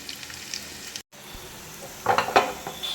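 Mustard seeds tempering in hot oil for a coconut-based fish curry, a steady close sizzle with a brief cut, then crackling pops and spatters rising toward the end.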